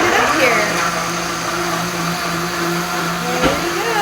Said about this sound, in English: Now we're gonna turn the blender on